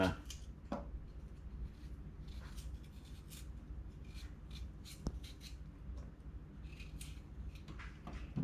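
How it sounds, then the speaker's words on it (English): A cook peels the skin off fresh ginger for daikon soup, making soft, irregular scraping and rubbing strokes close by over a steady low background hum. "And the ginger, I like to peel the skin off a little bit."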